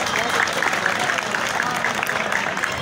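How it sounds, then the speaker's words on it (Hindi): Steady applause from spectators at a college boys' volleyball match in Mianwali, Punjab, a dense continuous clapping wash of a moderate crowd heard from close by. "जोरदार तालियां हो।"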